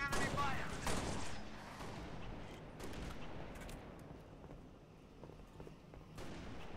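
Gunfire in the Halo: Reach campaign, with bursts of rapid shots and sharp cracks near and far layered over game ambience and muffled voices.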